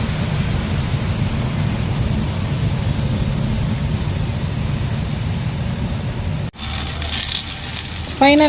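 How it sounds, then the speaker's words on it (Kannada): Cooking oil heating in a pan, a loud, steady hiss and crackle of sizzling up close that continues without a break before a short clatter near the end. "ಹದದಲ್ಲಿ ನಾವು ಈ ಎಣ್ಣೆನ ಕಾಯಿಸಿದ್ರೆ ಎಣ್ಣೆ ರೆಡಿ ಆಗುತ್ತೆ"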